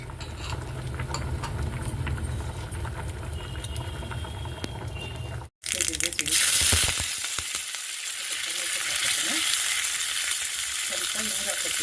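Mustard seeds and cumin sizzle and crackle loudly in two spoons of hot oil in a small tempering pan for sambar, a steady close frying hiss that turns brighter and sharper after a brief break.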